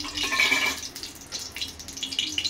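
A little cooking oil pours into a pan to start a coconut, peanut and roasted gram chutney for dosa, giving a brief, soft trickling hiss up close.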